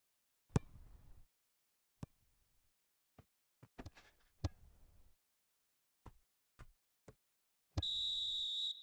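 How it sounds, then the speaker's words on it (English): In a football video game simulation of Barcelona against Rayo Vallecano, scattered sharp clicks and thuds precede a steady, piercing referee whistle blast for half-time near the end. "And there is the half-time whistle."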